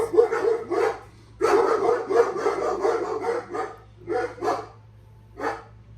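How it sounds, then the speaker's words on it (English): Several pet dogs barking indoors, repeated loud close barks in uneven bursts and clusters with short pauses between, heard alone without talk. "my dogs had to bark during this video."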